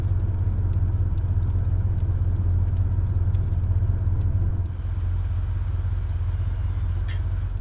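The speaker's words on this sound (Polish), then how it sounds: "Zgasz chociaż światła i silnik." A car engine idles in DayZ, a steady low rumble that stays loud and close, dropping slightly partway through, with no talk over it.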